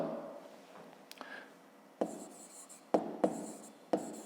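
A pen writing on paper during a fifth-grade maths exercise, with faint scratching strokes and several sharp taps as the pen is set down or dotted, close and quiet with no talk.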